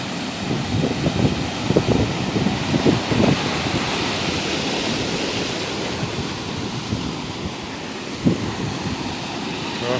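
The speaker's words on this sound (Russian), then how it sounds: "Какая большая волна." Big sea waves roll and crash on the shore of Sakhalin island, a loud continuous surf roar with several heavy breaking surges, wind buffeting the microphone and no talk.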